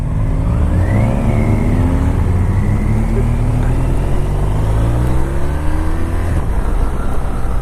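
A 2018 BMW R1200RT motorcycle accelerating hard, its engine rising in pitch through first gear, then a quick-shifter change into second with a falling then climbing tone, loud and close with heavy wind rush throughout.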